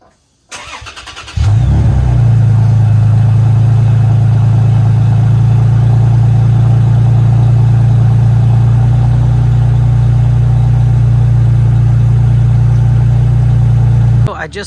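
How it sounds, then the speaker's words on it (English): A Toyota Tacoma with a freshly fabricated custom exhaust cranks and catches, then settles into a steady, loud, deep idle that holds evenly to the end. "I actually have the truck running right now."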